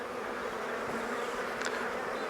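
Honeybees drone inside an opened Maisemore poly commercial hive, a dense continuous buzz that is soft and close and holds steady throughout.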